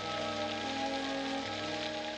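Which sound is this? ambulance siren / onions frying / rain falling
rain falling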